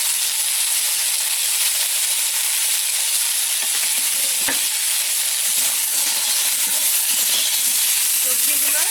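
Taro and kohlrabi fry in a pan with a steady, loud sizzling hiss that runs unbroken, joined by an occasional faint scrape of stirring.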